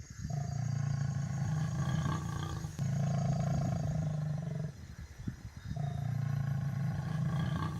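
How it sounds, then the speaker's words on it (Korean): A lion in the Okavango wilderness gives deep, long, hoarse roars: two sustained rumbling bouts, split by a brief huffing pause, with another roar starting after it, loud and unaccompanied by talk. "깊고 긴 쉰 포효가 땅속 뼛속까지 울려 퍼졌다"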